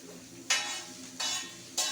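Capsicum, beans, onion and green chillies being stir-fried for chowmein in a food shop, with three sharp scraping tosses of the spatula against the pan, each followed by a fading sizzle, close and loud with no talking.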